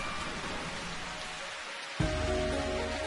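Steady rain falls in the Pangya golf video game, a dense hiss of rain with a brief dip and then an abrupt resumption, loud and alone.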